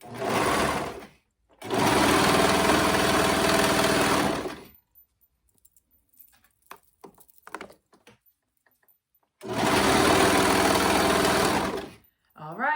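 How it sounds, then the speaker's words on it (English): A sewing machine stitches a ruffle and clear elastic onto a pair of pants in two loud, steady runs of rapid whirring, separated by a quieter stretch of small handling noises and clicks. "I'm going to go all the way down, pulling my pins as I go, and sewing those together"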